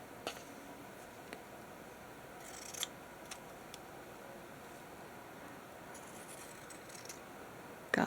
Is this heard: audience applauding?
no